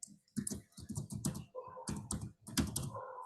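Rapid clatter of keys on a computer keyboard as an email address is entered into a website contact form, close and clear in short irregular bursts with brief pauses, no voices.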